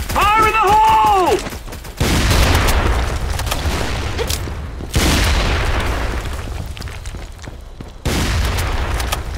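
Grenades go off in a video game as three heavy booms at regular spacing, each a loud broadband blast fading into rumbling debris, with a shouted game voice just before the first.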